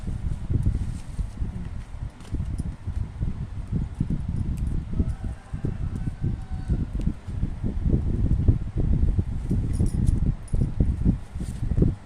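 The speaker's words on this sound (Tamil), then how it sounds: "இந்த புதினாவை நம்ம இப்படி ஆஞ்சி போட்டுட்டு ஒவ்வொரு கிளையாக கிள்ளி வச்சுட்டு" Mint sprigs being plucked by hand, a close run of soft rustling crackles and snaps of leaves and stems repeating irregularly throughout, with no talking.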